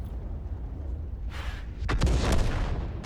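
Artillery shot from a self-propelled gun in a tank battle video game: a single heavy boom with a broad rumbling burst around the two-second mark, over steady game background noise.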